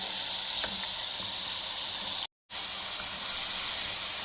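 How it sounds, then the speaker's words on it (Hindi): Mutton fries in a karahi for Shinwari mutton karahi, giving a loud continuous close-up sizzle and hiss that drops out for a moment partway through before resuming. "सिर्फ हम मटन को फ्राई करेंगे"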